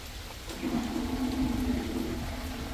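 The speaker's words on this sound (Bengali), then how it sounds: "দেখেন কি পরিমাণ বৃষ্টি, আজকে সারাদিন টিপ টিপ করতেই আছে" Light rain falls steadily in an all-day drizzle, a soft continuous patter heard alone with a faint low rumble underneath.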